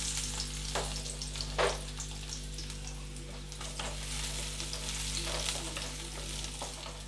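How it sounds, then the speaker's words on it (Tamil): Small onions sautéing in sesame oil in a kadai give a soft, continuous sizzle with occasional stirring scrapes, over a low steady hum. "அதில் நம்ம சின்ன வெங்காயத்தை வதக்கிப்போம்"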